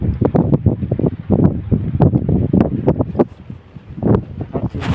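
Strong sea wind by a harbour on the coast at Dwarka, where boats have come into port, roaring loudly in gusty, buffeting bursts against the microphone.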